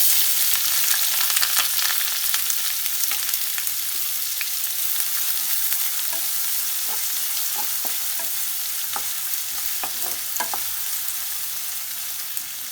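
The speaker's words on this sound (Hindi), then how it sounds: "4टा मीडियम साइज के प्याज खूब मिही मिही काट कर से खसा देबे" Four finely chopped medium onions sizzling in hot oil with cumin seeds for palak aloo sabji, a steady close frying hiss with intermittent spoon stirring scrapes and clicks, easing slightly toward the end.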